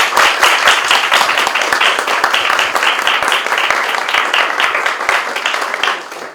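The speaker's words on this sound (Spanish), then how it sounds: "Un aplauso para el profesor." An audience at an academic presentation applauds a professor with steady, dense clapping that lasts several seconds and fades at the end.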